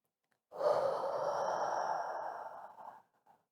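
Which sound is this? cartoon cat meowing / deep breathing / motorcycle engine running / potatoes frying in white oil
deep breathing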